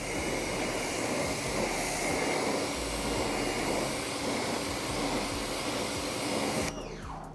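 A pressure washer steadily rinses a car after foaming, its broad, loud hiss constant and close for about seven seconds before cutting off near the end.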